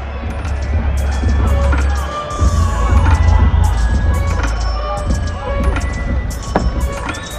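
Loud arena crowd cheering and shouting after a boxing-style ring fight, with a heavy low rumble and sharp bursts across the span; an announcer's voice booms over the noise.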